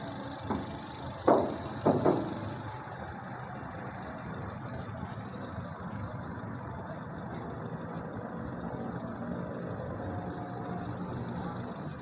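A 2013 Honda CR-V's K24 engine idles quietly and smoothly in the background, with a few brief knocks near the start, no voices.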